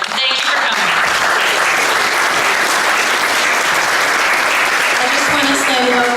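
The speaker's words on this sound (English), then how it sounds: "So I'd like to give you a round of applause" A dinner audience at a Beverly Hills women's club event applauds city volunteers, a dense, loud burst of clapping from many hands that holds steady throughout and drowns out everything else.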